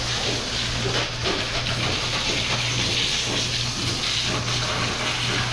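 A garden hose left running pours out a steady, unbroken rush of water that hisses evenly and loudly, with no voices over it.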